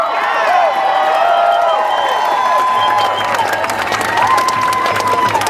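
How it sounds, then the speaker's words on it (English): A protest crowd cheers and claps for Texan pipeline activists at a Keystone XL rally in San Francisco, a loud steady wash of applause with whoops and shouts over the full stretch. "how many times do San Franciscans cheer for Texans?"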